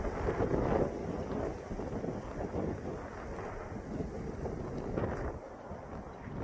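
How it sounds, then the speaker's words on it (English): Strong, gusty wind roars outdoors during a storm, a steady broadband rush with surges and buffeting against the microphone, loud and continuous for the whole stretch with no one speaking. "That wind just got bad in the last 30,"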